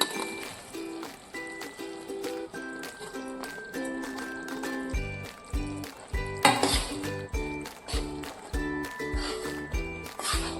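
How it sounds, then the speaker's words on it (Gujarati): A spoon scrapes and clinks against a pan while ground peanuts are stirred slowly for sing pak, a fasting sweet. The metallic taps come close and repeat steadily over a faint background tone. "હલાવતા જઈશું ધીમે ધીમે અને મિક્સ કરી દઈશું"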